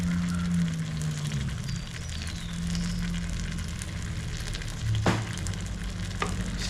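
Spicy chicken curry sizzles and fries in a pan as it is stirred, giving a steady crackling hiss with a couple of sharp scraping strokes near the end.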